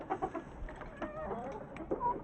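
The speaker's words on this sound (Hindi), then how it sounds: "ये दो मुर्गी हमारी आगे आई हैं" Pet hens playing in loose straw or chaff give soft intermittent clucks and short calls, faint and close, against rustling background noise.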